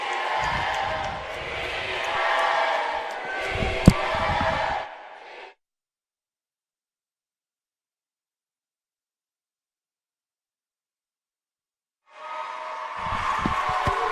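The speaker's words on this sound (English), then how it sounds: "Crowd's really getting into it now as we have our last event" Crowd at a college swimming meet in an indoor natatorium, cheering and shouting loudly for several seconds, a long silent gap, then the noisy cheering returns near the end.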